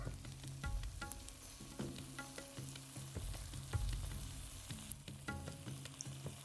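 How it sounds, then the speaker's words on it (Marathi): Mustard seeds, cumin and curry leaves fry in hot oil, crackling and popping continuously with a busy, close sizzle and scattered sharp spits throughout. "मिरचीचा कच्चेपणा निघेपर्यंत थोडेसे फ्राय करून घ्यायचे"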